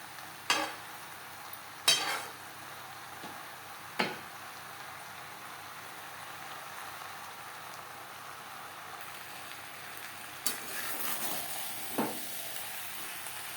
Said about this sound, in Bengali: মশলার সাথে আলু পটলেরও তিন চার মিনিট রান্না করে নেব